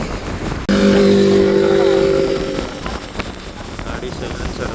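A Hero Splendor motorcycle's engine and silencer exhaust give a loud, steady drone close by, then the note eases and fades into a lower road rumble and wind noise.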